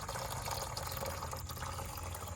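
Fluid draining from an Infiniti G35, a steady, continuous liquid trickle and splash into a container, close by and fairly quiet, with no talk.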